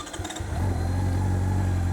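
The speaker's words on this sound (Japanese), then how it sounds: "特別にエンジンだけかけさせていただきます" A motorcycle engine cranks briefly and catches, settling into a loud, steady low idle rumble close by.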